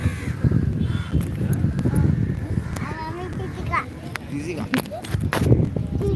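Crows caw a few times against a busy outdoor background on the bank of the Ganges, with children's voices chattering nearby throughout.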